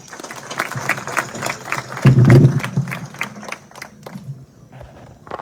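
A seated audience at an awards ceremony claps in steady, scattered applause that rises briefly to a louder peak, then thins out into a few sparse claps.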